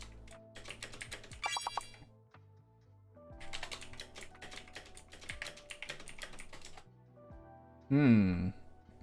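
Rapid clicky computer keyboard typing in bursts, close up, with pauses between runs and talk passing over parts of it.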